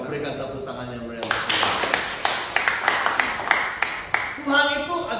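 Church congregation applauding, a burst of rapid, dense hand claps starting abruptly after a spoken pause and continuing steadily for several seconds, fairly loud and close, with a voice audible at the end.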